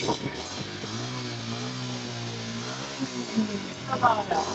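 A motorcycle engine fitted with a new Multani silencer idles and rises in pitch with a throaty harmonic drone, close by, with brief voices near the end.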